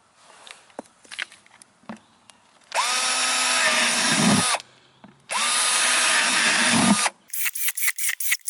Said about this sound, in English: This is how you add drainage holes to your containers.